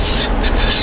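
Two sharpening whetstones lapped flat against each other for chisel honing, giving a continuous loud gritty rubbing scrape over a brief moment.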